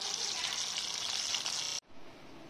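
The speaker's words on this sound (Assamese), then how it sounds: "এতিয়া মই মাছকেইটা ধুনীয়াকৈ ভাজি লওঁ" Butter fish frying in mustard oil gives a loud, steady sizzle that cuts off abruptly near the end and is followed by a quieter, softer hiss of the hot oil.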